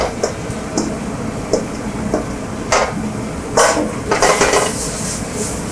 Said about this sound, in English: So you gotta make fried rice in a wok.